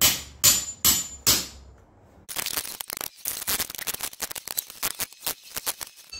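Four sharp, ringing hammer blows on a chisel against the metal of a Willys inner door latch, then a pause and a rapid, uneven flurry of lighter metallic taps and clinks, close by.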